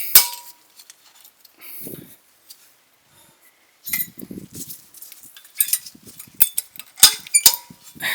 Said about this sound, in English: I'm going to put the old clips back in.